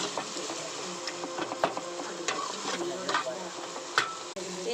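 Tamil egg curry ingredients sautéing in a pan with salt and turmeric, a steady close sizzle with scraping and stirring clatter running throughout, a few sharper clinks of the utensil against the pan.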